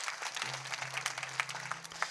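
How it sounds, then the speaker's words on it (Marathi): Applause from a crowd at a devotional gathering, steady and fairly faint, with a low sustained drone running underneath. "त्या सर्व माता भगिनींसाठी पुरुष मंडळी एकदा जोरात टाळ्या वाजवा"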